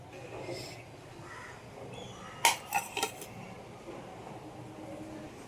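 Metal utensils give a few sharp clinks in quick succession against a plate while lemon chicken cooked with lemon and ghee is served, over faint kitchen background noise.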